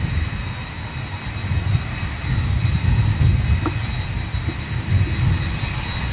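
WestJet jet airliner with CF6 engines passing, a loud low rumbling roar that swells and stays heavy, with a thin steady whine above it.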